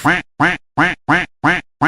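A duck quacking in a rapid, evenly spaced series of six loud, close, nasal quacks with short silent gaps between them, heard alone without any talking.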